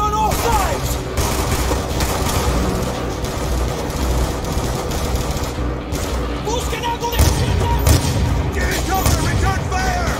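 Dense, continuous battle gunfire from Call of Duty Black Ops II during a Los Angeles mission, with overlapping rapid automatic bursts and booms, loud and sustained, with shouted voices mixed in.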